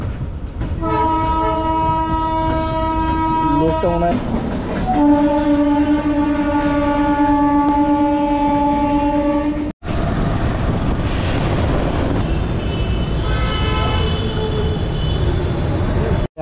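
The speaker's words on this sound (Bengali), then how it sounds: "এই মাল ট্রেনের পরে আবার একটা ট্রেন" A freight train rumbles past with a long, loud train horn blast, then a second train follows with steady rolling noise and another horn sounding, all close by and continuous.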